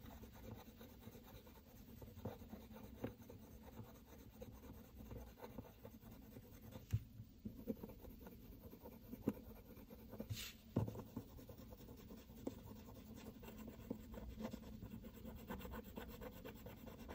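Colored pencil rubbing over paper in small rotating strokes while shading snow, a soft continuous scratchy rasp with faint periodic ticks, close and quiet, no talking.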